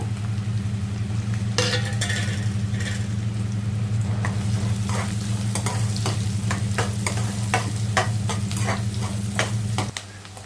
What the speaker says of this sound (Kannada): ಈಗ ನೋಡಿ ಆನಿಯನ್ ಹಾಕೋಣ ಸ್ವಲ್ಪ ಚೆನ್ನಾಗಿ ಫ್ರೈ ಮಾಡ್ಕೊಳ್ಳೋಣ ಇದನ್ನು